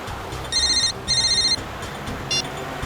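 A telephone rings in electronic bursts, two long trills followed by a short partial one, loud and clear over a low background hum.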